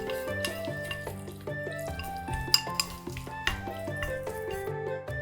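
Utensils clinking and scraping against a bowl while mixing marinated meat strips in steady stirring motions, with light metallic taps over faint kitchen background noise.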